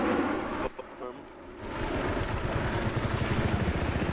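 Battlefield 3 game helicopter, a steady rotor whine and wash blended with wind-like rushing noise that swells after a brief dip, heard close with speech alongside.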